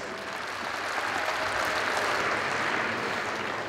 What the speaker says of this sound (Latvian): Aplaus viņai vēlreiz.